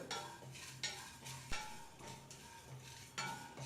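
Chana dal and urad dal dry-roast in a frying pan over a low to medium flame, with a spoon scraping and stirring in regular strokes and a quiet, soft rustle of the lentils.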